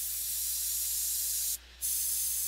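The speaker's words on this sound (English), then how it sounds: "I'm just going to gently spray on a little yellow right there." A Badger airbrush sprays yellow paint onto a half-scale bust in a soft, steady hiss that stops briefly and resumes, with no talking.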